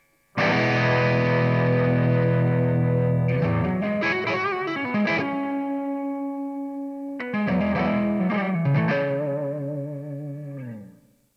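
Electric guitar through a Univibe effect on a TC Electronic G-System, its pulsing modulation sweeping faster and slower as an expression pedal changes the speed; sustained chords and riffs ring loud and alone, fading at the end.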